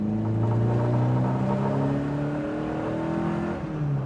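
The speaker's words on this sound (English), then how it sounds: "let's take it through the gears again and see how it really drives" A BMW 2002 Tii engine revs hard while driving through the gears, a loud close drone whose pitch climbs steadily, then drops and rises again as it shifts.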